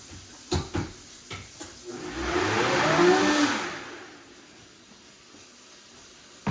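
A blender pulses briefly, mixing honey into a blended chicken, quinoa and fruit diet for G-tube feeding; a few short knocks come first, then one loud burst of whirring that rises and fades away.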